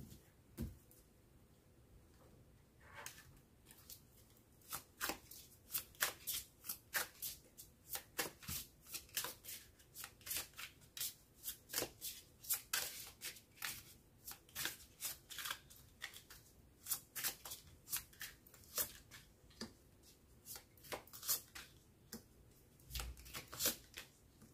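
Tarot cards are shuffled repeatedly for a reading, close and quiet, with bursts of riffling and sharp card slaps coming in an irregular rhythm through the whole stretch.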